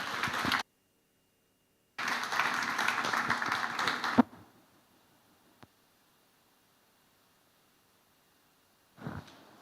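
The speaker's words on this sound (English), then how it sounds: "let's keep clapping for her" An audience claps at an academic conference, a steady burst of applause that cuts off, returns for a couple of seconds, then fades to near silence before a brief final patter.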